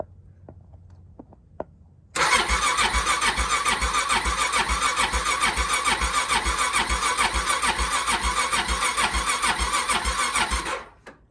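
A Suzuki DRZ400 motorcycle tries a cold start in a garage on a January day. After a few faint clicks, a loud, steady, rhythmic engine churn runs for about nine seconds and then cuts off abruptly. No one speaks over it.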